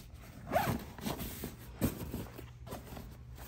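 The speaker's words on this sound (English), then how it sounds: "There's a zipper right here too." A zipper on a Keenz 7S+ stroller wagon footwell cover is pulled open in a couple of short, scratchy runs, close and fairly loud, with small handling rustles between and no one speaking.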